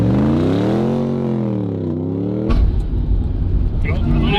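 A 1,000 hp Demon 170 Jeep Gladiator launches from a standstill on dirt: an engine rises steadily in pitch, then a loud broadband roar of tyres spinning and scrabbling for traction takes over, close and sustained.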